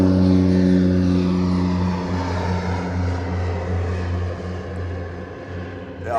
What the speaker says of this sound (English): planes going over.